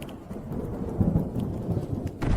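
A thunderstorm with rain at sea: continuous heavy rain and deep rumbling thunder, loud and close, with no voices.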